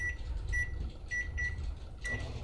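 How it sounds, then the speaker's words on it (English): A microwave oven hums steadily with a low drone and a faint whine, followed by a brief soft click near the end. "put this in the microwave"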